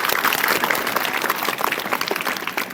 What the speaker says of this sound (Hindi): इसके लिए एक बार तालियां बजा दें इनके लिए